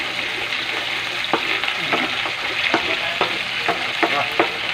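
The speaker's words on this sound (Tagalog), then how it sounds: "Ito sana natin yung haluin ng haluin." Sweet potato kakanin cooking in a pan as the coconut latik renders out, a dense steady sizzle of frying oil with regular scraping strokes of a spatula through the thick mixture, close and loud, no talking.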